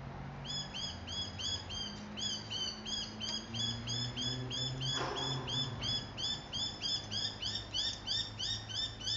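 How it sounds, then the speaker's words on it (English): Small birds call in a rapid, regular chirping pattern that repeats steadily throughout, moderately loud over a low background rumble, with a brief bump of noise midway. "Stinking birds, can you hear them?"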